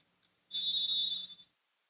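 A single sustained referee whistle blast at a college volleyball match between Paine College and Baptist University of Florida, fairly faint and lasting about one second, with no talk over it.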